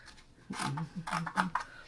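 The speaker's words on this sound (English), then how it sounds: "I'm going to cut the dark pink right here." Scissors snip through dark pink quilting fabric at close range, a few short crisp cuts in quick succession.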